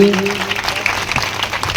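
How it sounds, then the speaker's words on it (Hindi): Audience at a Bhagwat Katha religious gathering breaks into sustained applause, a dense, steady wash of clapping that holds for about two seconds at close range, with a few voices mixed in. "एक बार जोरदार ताली है सभी के लिए"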